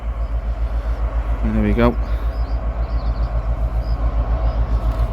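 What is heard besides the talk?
train going past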